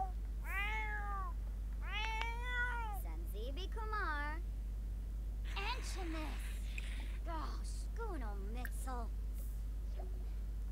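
A tomcat meowing repeatedly, a run of drawn-out wavering cries one after another over a steady low hum, with a person's voice mixed in.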